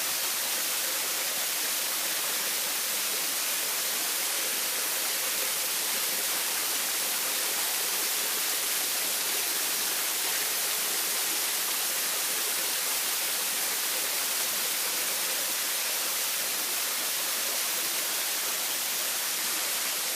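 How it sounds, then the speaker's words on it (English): A waterfall at Kemback gives a steady, broadband rushing roar. It is constant and even from start to finish, heard alone and fairly close. "There's a nice waterfall up here."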